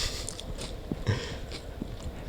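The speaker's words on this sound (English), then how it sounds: "You're over here just chewing into the microphone" A person chews close to a microphone, with soft wet bites and a few louder crunchy chomps spaced irregularly over a low background hum.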